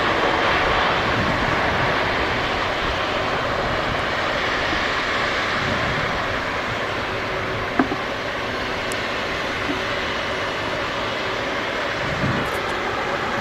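An Airbus A321 jet at Manchester Airport produces a steady, broad engine roar that holds at an even loudness throughout, with no voices over it.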